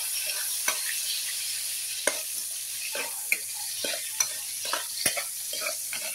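Eggplant frying in a pan gives a constant bright sizzle, with sharp utensil taps and scrapes coming every second or so.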